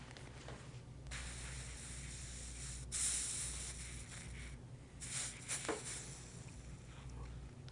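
Spray bottle misting starch onto quilting fabric before pressing, soft faint hissing bursts over a low steady background hum, close but quiet.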